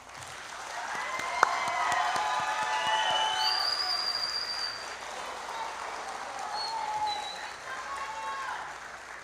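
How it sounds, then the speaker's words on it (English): An audience at an adult basic high school equivalency graduation in 2022 gives the graduates a round of applause, steady clapping throughout with cheering, whistles and some voices mixed in. "So let's give them one more round of applause."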